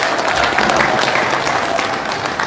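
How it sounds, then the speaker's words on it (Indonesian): Steady applause from an audience at a political gathering about farmers in Indonesia, dense and continuous throughout, with no pauses and no speech over it. "Tepuk tangan buat semuanya."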